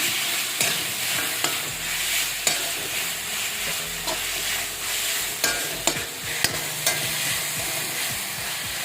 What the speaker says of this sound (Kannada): ಚೆನ್ನಾಗಿ ಸಾಫ್ಟ್ ಆಗಬೇಕು, ಅಲ್ಲಿವರೆಗೂ ಫ್ರೈ ಮಾಡ್ಕೊಳ್ಳೋಣ